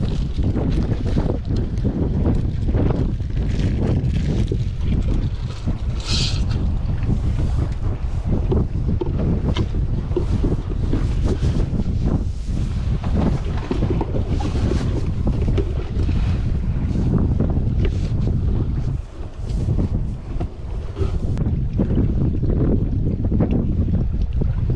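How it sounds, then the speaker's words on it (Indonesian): Strong wind buffets a boat out squid fishing, a loud continuous roaring rush with gusty surges that lasts the whole stretch with no voices. "Anginnya kencang, jadi kurang maksimal."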